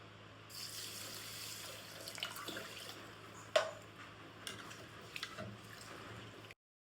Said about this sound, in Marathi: आता हे तांदूळ मी धुवून घेते पाण्यामध्ये.